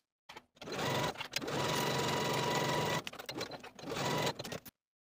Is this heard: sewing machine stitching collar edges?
yes